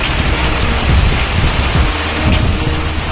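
Heavy, steady rain pours down at Lake Lido, a dense, loud hiss of drops with low rumbling underneath. It continues evenly throughout, with no voices.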